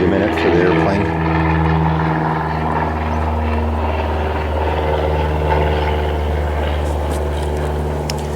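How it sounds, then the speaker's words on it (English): A propeller airplane drones overhead, a loud, steady low hum that fills the whole stretch, with a voice speaking briefly at the start. "You wait a minute for the airplane."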